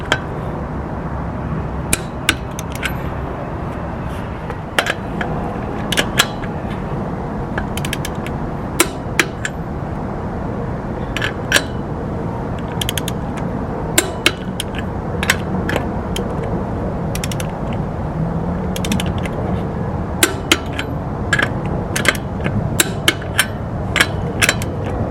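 A wrench clicks as a car's lug nuts are tightened in a star pattern to 90 foot-pounds during a tire change: a sharp ratcheting clatter that keeps repeating over steady background noise, with brief pauses between bursts.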